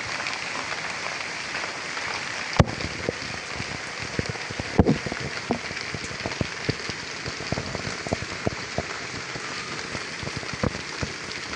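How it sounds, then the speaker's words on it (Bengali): Rain pours down in a village during sunshine, a constant hiss broken by frequent sharp drips and splats hitting a nearby surface. "সূর্য ডুবে নাই সূর্য দেখা যাচ্ছে এদিকে বৃষ্টি হচ্ছে"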